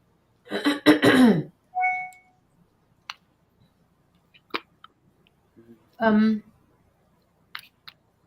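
A person coughs and clears their throat during an intuitive tarot and mediumship reading, a rough burst early on and another a few seconds later, close to the mic, separated by faint clicks in a quiet room.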